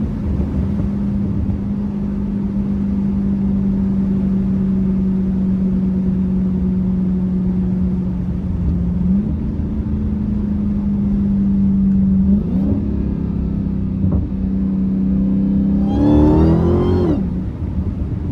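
An 800 HP Dodge Challenger Hellcat pulls hard from inside the cabin, its engine droning loudly and steadily, then rising in pitch through several gear changes, with a sharp surge of revs near the end.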